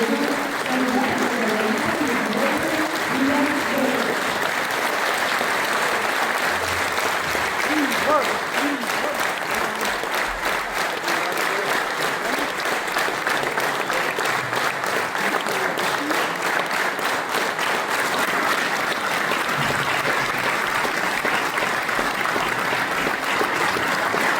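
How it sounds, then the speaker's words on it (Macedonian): A crowd at a mayoral candidate's campaign promotion applauds at length, steady dense clapping that holds evenly from start to finish with a faint murmur beneath, shifting into rhythmic clapping partway through. "Ве молам, поздравете го со срце и аплауз."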